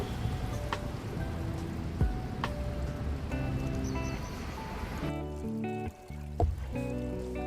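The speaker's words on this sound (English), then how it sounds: "So early in the morning, it's already raining." Morning rain falls in Tokyo, a steady dense patter on surfaces with occasional louder drips, heard alone and close.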